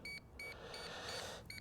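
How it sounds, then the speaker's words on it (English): A DJI Neo drone gives a series of faint, short electronic beeps during pairing, several chirps in quick succession against low background noise. "Aircraft beeped."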